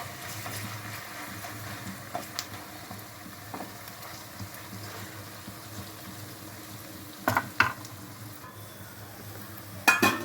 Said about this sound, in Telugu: పచ్చి వాసన పోయే వరకు ఫ్రై చేసుకోవాలి ఆయిల్లో